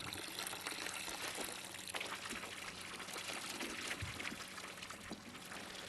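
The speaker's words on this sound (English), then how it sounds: "I do like the pouring mechanism on this." Liquid pours steadily in the Brewmaster beer brewing simulator game, a continuous faint trickling splash that runs unbroken for several seconds without talk.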